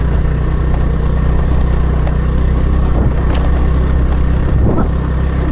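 A scooter engine running close and loud, a steady low rumble with a constant mid hum and a couple of slight revs, on a slippery road heading toward Bindabasini temple.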